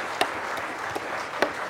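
A few sharp, separate hand claps, about three, ring out in a quiet room on a sports quiz show.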